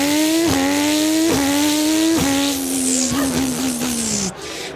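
A Formula 1 race car, identified as a Ferrari, screams past at high revs, its engine note stepping up through several quick gear shifts before dropping as it pulls away; loud and close, with no voices.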